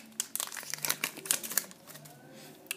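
Plastic packaging crinkling and rustling as an Apple Remote is unboxed, a busy series of close, sharp crackles and crumples in quick irregular bursts, with a faint low hum underneath.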